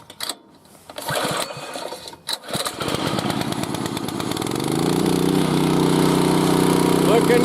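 A small gasoline engine on irrigation equipment is pull-started with the choke on: quick cord pulls, then the engine catches and settles into a steady, loud, buzzing run that grows slightly fuller.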